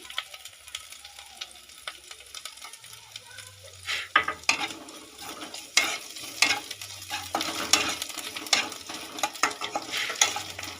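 Lentils frying in a pan with turmeric and chili powder for a village-style whole masoor dal dish, a steady sizzle broken by repeated scraping stirs that grow louder and busier over the second half.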